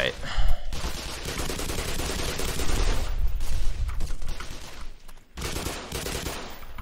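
Sustained gunfire in the video game Half-Life, dense loud shots and blasts in a continuous rolling barrage with a brief dip near the end, without clear talk over it.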